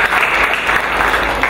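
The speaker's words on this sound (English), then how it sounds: "Let's give a big mighty hand clap to the" A church congregation at a Victory Outreach send-off service claps loudly for the Lord, a dense, close burst of hand claps that sustains without pause.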